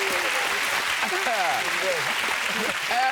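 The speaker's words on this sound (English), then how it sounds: "That deserves a round of applause." A studio audience on a television chat show breaks into steady applause, and someone talks over the clapping the whole time.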